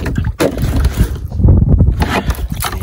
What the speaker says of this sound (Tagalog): Magbawas muna tayo ng tubig.